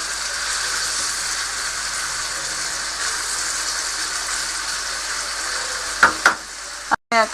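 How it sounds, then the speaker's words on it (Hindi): Chicken pieces sizzle and fry steadily in a pan as they are turned, followed near the end by a few sharp clinks and scrapes. "चिकन का एक एक पीस अपनी साइड से दूसरी साइड से उसे उल्टाना है।"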